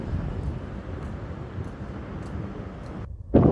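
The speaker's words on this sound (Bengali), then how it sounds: "বাতাস, অনেক বাতাস" Strong wind blows outdoors in Qatar, a steady low rushing roar buffeting the microphone that drops out briefly near the end before a louder gust returns.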